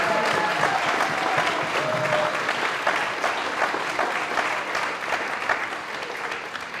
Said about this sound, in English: let's give them a big round of applause for being here.